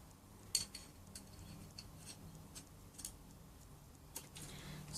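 Scissors snip through the replacement cord on a United Cutlery Gil Hibben cord-grip knife handle, giving faint, sparse clicks and small crisp cuts at close range with no talk.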